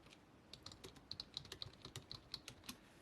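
Quiet, quick key taps on a computer keyboard patter in an irregular run, fairly close and soft with no talking.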